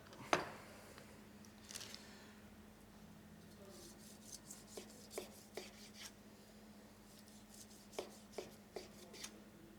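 A knife cuts through slow-cooked lamb shoulder on a board, with a sharp knock at the start followed by faint, scattered thuds and soft slicing strokes, quiet and close with a low hum beneath.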